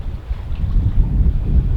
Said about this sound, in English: it was the sails flapping